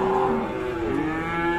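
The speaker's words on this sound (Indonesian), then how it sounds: "mulai muat sapi-sapi hasil buruan di tempat ini" Cattle low repeatedly at a livestock market in Indonesia as newly bought cows are loaded for transport, with several overlapping moos close by and strong, steady calls.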